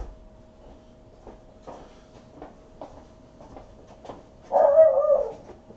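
A dog barks outdoors where quadcopters are being flown, a few soft distant barks scattered through the first part and then one louder, closer burst near the end, with a faint steady hum underneath.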